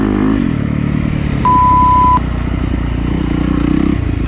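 A Yamaha YZ250FX dirt bike ridden on a muddy trail sends out a loud, constant engine drone up close, briefly overlaid by a steady electronic beep tone.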